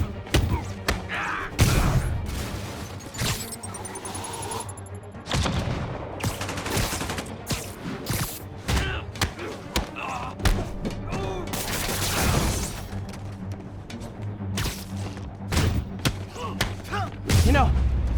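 Gunfire from armed enemies in the PS5 game Spider-Man Remastered, heard as bursts of shots and thuds mixed with combat effects, sitting under character dialogue and a music score throughout.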